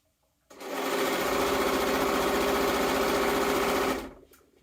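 A sewing machine stitches stretch fabric in one continuous, fast, steady run of about three and a half seconds, starting and stopping abruptly, close and clear.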